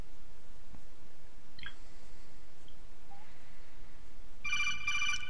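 A phone ringtone chirps in a short repeating electronic pattern near the end, preceded by a few faint clicks against a quiet room background with no speech.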